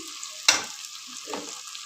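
Mutton sautés in spice masala with a brief sharp sizzle and a scrape of the spoon, then a second softer stir over a quiet hiss of frying oil.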